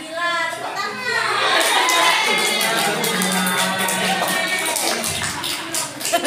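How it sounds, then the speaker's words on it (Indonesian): Lively applause and cheering from students in a nursing lab class on cranial nerve testing, with dense clapping and excited shouts and chatter under loud voices. "Tepuk tangan."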